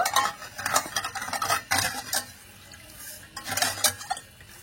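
Sugar and water with two cardamom pods stirred in a pot to melt into syrup for palm pitha, giving repeated scraping bursts of a spoon against the pan in an uneven rhythm, close and clear.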